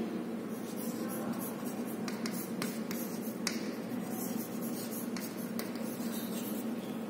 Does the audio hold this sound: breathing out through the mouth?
no